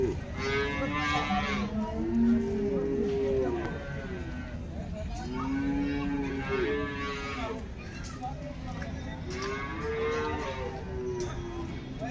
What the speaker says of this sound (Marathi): ही समोर दिसत असलेली क्रॉसब्रीड जातीची गाय विक्रीसाठी उपलब्ध आहे.